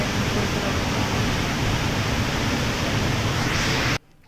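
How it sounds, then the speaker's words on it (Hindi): Water from Harvalem waterfall pours down in a loud, steady roar of broadband rushing noise that fills the whole clip, then cuts off abruptly at the end. "जो वाटरफॉल का पानी झरने का और नीचे का पानी गिरता है उसके वजह से आवाज़ बहुत ज़्यादा है।"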